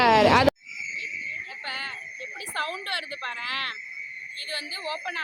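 A mechanical beetle model at a 2024 insect-themed exhibition in Kumbakonam gives off a loud, continuous shrill buzzing drone with warbling chirp-like calls, while people talk nearby.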